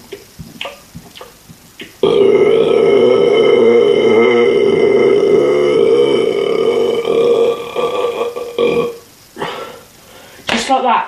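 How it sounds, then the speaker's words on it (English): A man lets out one very loud, long burp that rumbles and warbles for several seconds, with short bits of his talking just before and after it. "I believe I have some of the biggest burps in the world actually."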